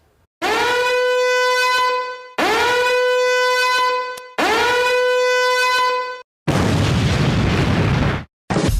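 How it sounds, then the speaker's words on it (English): Three loud, sustained siren blasts of about two seconds each sound in a row, followed by a harsh noisy burst that stops abruptly. "They're sirens."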